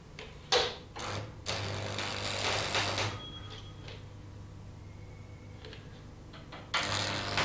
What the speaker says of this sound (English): Tack weld one end as before.